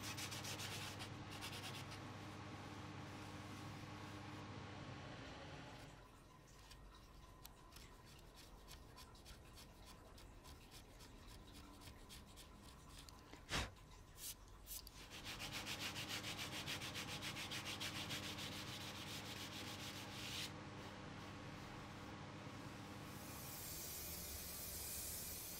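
Sandpaper rubs steadily back and forth over a thin plywood laundry basket, a continuous close scratchy hiss that briefly softens midway before resuming, with no voices.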